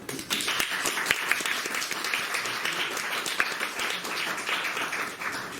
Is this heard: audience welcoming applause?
yes